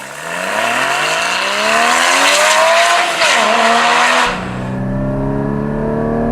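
A Porsche Cayman GT4 engine revs hard through rising gears nearby, tires squealing briefly, then the engine drops to a lower drone as it shifts down.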